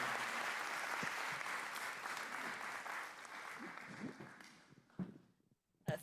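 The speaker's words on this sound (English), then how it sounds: "everybody give a big round of applause to Andrew" Applause from a group at a weekly club meeting, a full, even burst of many hands clapping that gradually thins out and dies away, ending with a couple of isolated claps and a thump.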